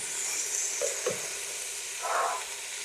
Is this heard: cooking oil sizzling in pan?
yes